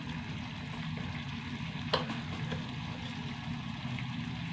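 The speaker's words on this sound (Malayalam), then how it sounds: "ഒന്ന് വഴറ്റിയെടുക്കട്ടെ കേട്ടോ നന്നായി വഴണ്ട് വന്നു കേട്ടോ" Ingredients sautéing in a pan with a steady low sizzle and faint stirring scrapes, close and continuous, with one brief clink of a utensil midway.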